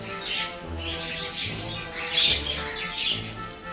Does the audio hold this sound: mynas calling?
yes